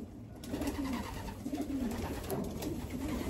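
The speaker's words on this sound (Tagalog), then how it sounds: "Look at the birds." Racing pigeons after a 350-mile final race give low, rolling coos that repeat in soft phrases close by, over a steady outdoor background hum.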